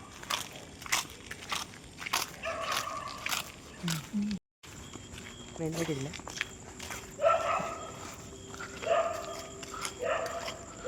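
Dog barks break out in short bursts amid footsteps and people talking while a group walks into a house, the barking coming in scattered clusters between voices.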